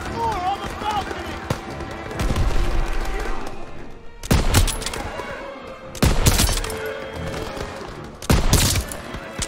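Gunfire cracks through Call of Duty WWII combat: several loud, sharp shots spaced a couple of seconds apart over constant battle noise and background sound, fairly close and punchy.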